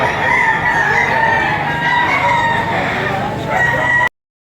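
A young rooster crows loudly and close, one long strained call that cuts off abruptly.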